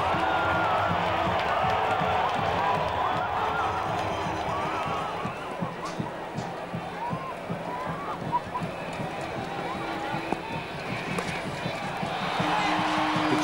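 A packed stadium crowd at a West Indies v England one-day international in St. Vincent roars steadily after a run of boundaries, a loud sustained wash of cheering with whistles and shouts, noise swelling again near the end.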